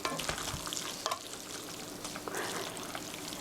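Spaghetti tossed through tomato sauce in a pan after the heat is switched off, giving a soft continuous wet stirring and faint sizzle with a few scraping knocks, close and steady with no talk.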